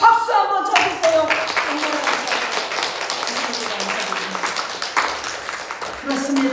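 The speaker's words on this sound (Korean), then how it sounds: "우리 박수 한번 쳐주세요." A church congregation applauds its Sunday school teachers during a Salvation Army Sunday service, with steady clapping running throughout under a speaking voice.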